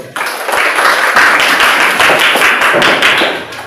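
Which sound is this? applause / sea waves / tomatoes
applause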